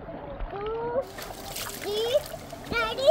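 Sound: child splashing while swimming in water

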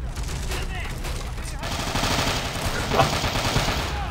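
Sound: gunfire and grenade in Men of War video game

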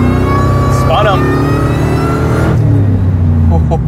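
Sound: Ford F-150 SVT Lightning pickup truck engine revving

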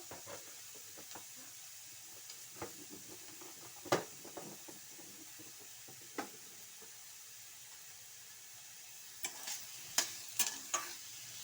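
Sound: stirring radish palya in a pan

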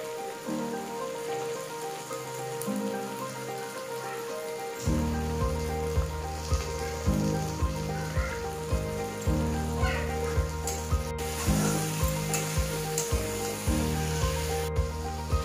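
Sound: frying potatoes with chopped tomatoes, chili powder and meat masala

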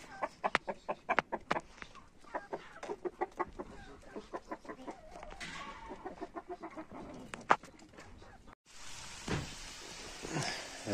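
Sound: rooster and chickens clucking

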